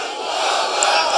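A large crowd at an outdoor Islamic sermon roars a takbir in unison, a loud, sustained mass shout that fills the space.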